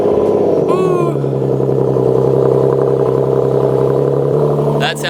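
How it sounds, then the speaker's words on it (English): Nissan Nismo engine cold-starting with a brief whine and catch, then settling into a loud, steady high idle with a constant exhaust drone throughout. "Now we're gonna do a cold start in the Nismo because everybody loves a cold start."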